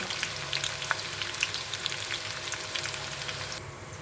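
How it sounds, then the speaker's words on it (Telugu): Okra pakoda fries in hot oil with a few curry leaves, a dense continuous close sizzle with small pops that eases slightly near the end. "వేగనిద్దాం"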